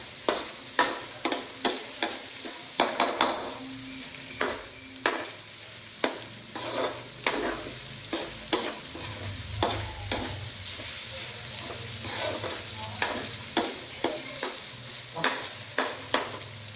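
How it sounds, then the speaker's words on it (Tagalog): A spatula scrapes and stirs pre-cooked fried hotdog through spaghetti in a pan, giving a steady run of sharp scraping clatters over a soft background sizzle, close and fairly quiet. "Now you mix our pre-cooked hotdog na ito."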